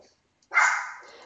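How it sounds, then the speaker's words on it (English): A dog gives a single loud, close bark that fades out, heard indoors during a Minecraft recording session, after a brief pause in the talking. "Having a dog like that and recording is not a good mix."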